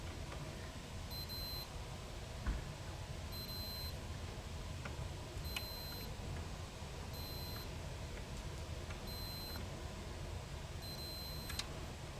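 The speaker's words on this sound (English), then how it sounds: "switch my multimeter to continuity test. So if it beeps, that means the fuse is good" Short, faint electronic beeps from a multimeter continuity test on a Maserati GranTurismo's fuses sound at irregular intervals, each a brief high tone over a steady background hum.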